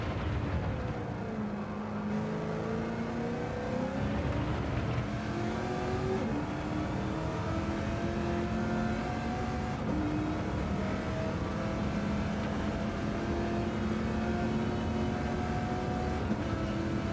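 A V8 Supercar engine drones loud and steady from an onboard view in a racing video game at Road Atlanta, with rising and falling tones as it works through gears across the lap, no talk over it.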